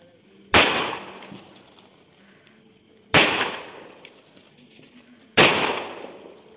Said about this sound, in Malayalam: ഓലപ്പടക്കം പൊട്ടിക്കാം.